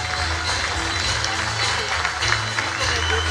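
Audience applause fills a prize-giving ceremony for a 2023 stand-up comedy contest in Saint-Gaudens, a steady dense clapping that carries on beneath an announcer speaking over a microphone.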